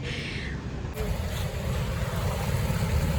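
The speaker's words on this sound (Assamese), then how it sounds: "এয়া বতাহ মাৰি আছে খুব ধুনীয়া এটা পৰিৱেশ" Wind blowing at the Chowkidinghee crossing in Dibrugarh, a steady broadband roar and buffeting that fills the clip with low rumble throughout and no clear speech.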